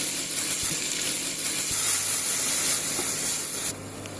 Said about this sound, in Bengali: দেখো বন্ধুরা, তেল গরম হয়ে গেছে। আমি প্রথমে পেঁয়াজ কুচিগুলো দিয়ে দেবো।